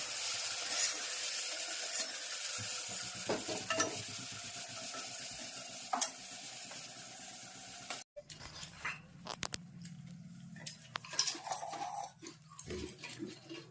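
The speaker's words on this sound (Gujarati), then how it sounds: "તળાઈ જાય ને એટલે થોડું પાણી નાખીને ધીમા ગેસથી તળવા દેવાનું." Masala frying on low gas with a little water added sizzles softly in a pan, stirring scrapes breaking in; the sound is faint and shifts midway to quieter, more scattered stirring.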